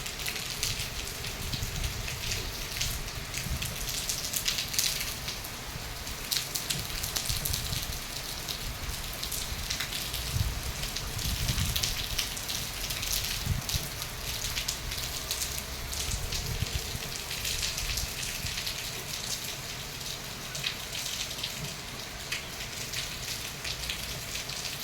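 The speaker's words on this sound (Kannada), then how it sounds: "ಮಳೆ ನೋಡಿ ಹೇಗೆ ಬರ್ತಿದೆ ಅಂತ ತೋರಿಸ್ತೇನೆ." Rain falls steadily outside, a dense patter on surfaces with a close, continuous wash at moderate volume.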